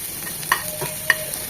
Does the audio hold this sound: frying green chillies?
yes